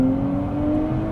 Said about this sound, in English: really solid launch. I love those aggressive gear shifts